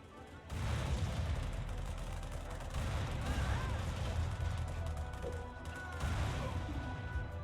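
Tanks firing in the real-time strategy game Halo Wars, a dense, sustained rumble of booms and gunfire that swells loudly after a quiet start, with a few brief dips, and no speech on top.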